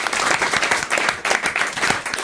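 A studio audience on a French radio show claps in a dense, sustained applause, steady and loud throughout with a faint voice under it.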